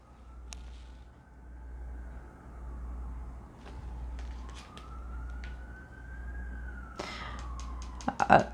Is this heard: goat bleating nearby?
no